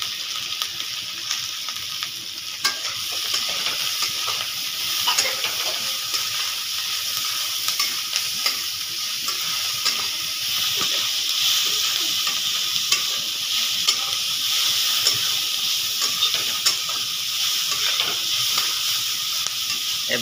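Chopped capsicum stir-frying in a hot pan for chowmein, a steady bright sizzle and hiss with faint scraping of stirring throughout, close and continuous with no talk.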